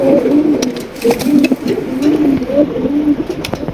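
A pair of pigeons on a pigeon farm coo in repeated low rolling phrases, loud and near, with small clicks and rustles between calls and no talking.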